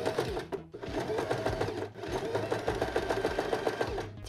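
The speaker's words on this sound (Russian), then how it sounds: "Проложим фиксирующую строчку поверх кармана, разделяющего его на два отделения." Domestic sewing machine running a steady, fast stitch over felt, sewing a line across a pocket to split it into two compartments, with a dense mechanical rattle that pauses briefly twice and then carries on.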